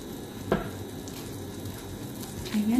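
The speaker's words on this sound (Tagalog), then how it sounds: "Gumamit tayo ng butter sa ating pagigisa." Butter sizzling in a pan while sautéing for chicken menudo, a soft steady frying hiss with a brief clatter near the start and a louder burst toward the end.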